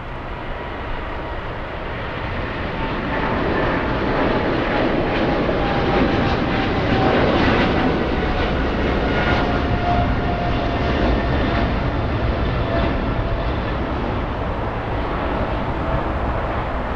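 A British Airways airliner passes at LAX, its broad jet roar swelling after the first few seconds and holding loud and steady close by before easing slightly toward the end.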